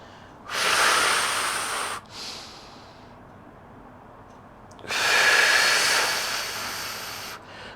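Two long, forceful breaths pushed out during Pilates leg circles on a mat, each lasting about a second and a half to two and a half seconds, loud and close, with a softer breath between them and no talking.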